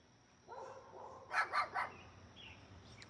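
Three quick dog barks from somewhat far away, outdoors, with a faint whistle-like tone and a low background hum.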